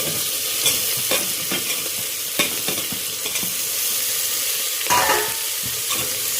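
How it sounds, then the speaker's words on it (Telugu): Sliced okra and tomatoes, added together to a hot pan for bendakaya charu, fry with a dense, continuous sizzle broken by a few sharp stirring scrapes, close and fairly loud, no voices. "బెండకాయలు టమాటాలు రెండు ఒకటేసారి వేసేస్తున్నాం."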